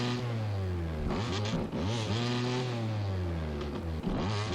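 A 2-stroke 250cc/500cc motocross bike engine in MX vs ATV Supercross revs hard and steadily, its buzzing pitch rising and dipping with several sharp throttle blips and clutch drops, loud and close with no talk.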